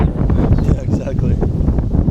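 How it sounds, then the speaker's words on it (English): Gusty outdoor wind buffeting a microphone, a continuous low roaring rumble with fluctuating intensity, loud and close throughout. "It is windy."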